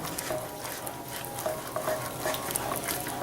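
Cheese sauce being stirred in a pan on the stove, spiced with Slap Ya Mama seasoning, gives a continuous soft scraping and a faint sizzle with occasional light utensil clicks, close and steady throughout.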